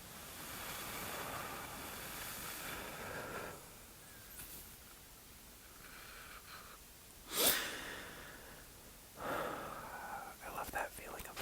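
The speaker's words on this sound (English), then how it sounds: "huge deep breath in through the nose. Let it all out." A slow, deep breath drawn in through the nose and then let out during a guided meditation, soft and close, with broad airy hiss swelling and fading in long passes and no voice.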